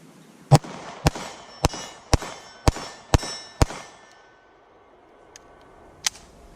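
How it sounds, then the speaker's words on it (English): A German 7.65mm Luger pistol fired at an outdoor range at about 5 yards: seven sharp, loud shots in a steady rhythm roughly half a second apart, then a pause, a faint click and one more shot. "Take some shots with the Luger."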